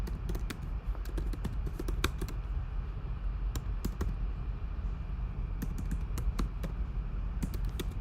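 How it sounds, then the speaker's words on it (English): Rapid, irregular clicking of a computer keyboard being typed on, close and steady for several seconds, with brief pauses between bursts of keystrokes and no talking. "I'm typing in my book on Audible,"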